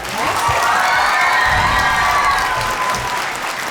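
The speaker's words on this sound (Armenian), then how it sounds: "Ապրես Ստելա ջան, եւս մեկ անգամ քեզ բարձր արի ծափահարենք։" Loud, sustained audience applause with scattered cheering fills a studio hall for contestant Stela at a Got Talent Armenia quarterfinal, steady and dense throughout with no break.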